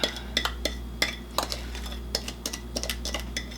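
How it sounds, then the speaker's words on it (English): Batter for butterscotch raisin bars being stirred in a bowl, a spoon or whisk clinking and tapping against the sides in uneven strokes, close and moderately quiet over a low steady hum. "Mix it all up."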